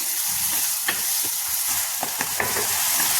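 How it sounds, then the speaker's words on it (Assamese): Grated carrots frying in sugar and desi ghee for carrot halwa, a steady close sizzle with a few soft stirring scrapes of a spoon against the pan, no voices. "এতিয়া গাজৰখিনি ধুনীয়াকৈ চেনিত গলি যাবলৈকে মই ভাজি আছো"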